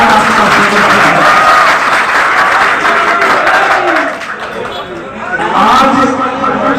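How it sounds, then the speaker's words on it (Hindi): Crowd at a village panchayat rally claps loudly and steadily, with chatter and voices mixed into the applause, which dips briefly near the end before swelling again. "आप लोगों की तालियों से पता चलेगा कि किस प्रकार आपका समर्थन है।"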